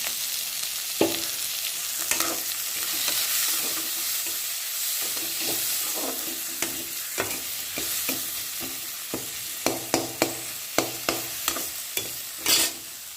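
Ivy gourd fries with tomato and turmeric in a Chettinad-style dish, giving a soft steady sizzle broken by a spoon's scraping stirs and a run of sharp taps near the end.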